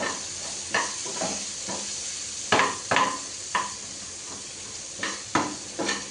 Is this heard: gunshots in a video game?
no